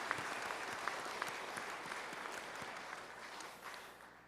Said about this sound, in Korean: 우리 오케스트라 대원들을 위해서 우리 한번 박수 한번